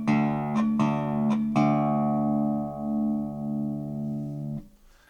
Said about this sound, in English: it uses this alternating bass line like this